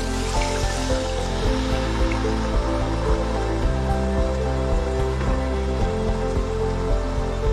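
Water splashes and gurgles steadily into a pot of sautéed seeraga samba rice for mutton biryani, a continuous rushing pour with a busy watery texture throughout.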